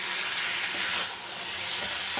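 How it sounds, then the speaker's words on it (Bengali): Fish fries in a pan of spiced oil after the masala has cooked down, producing a loud, steady hissing sizzle close by with a brief clink at the end. "মাছটা দিয়ে একটু হালকা ভেজে তারপর জল দিয়ে দেবো।"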